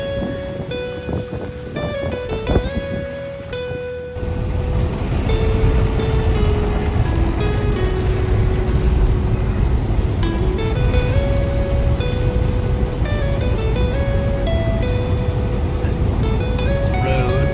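Shallow floodwater rushes down a road toward a creek near an off-grid cabin, a loud continuous watery roar that swells and holds steady after a quieter opening.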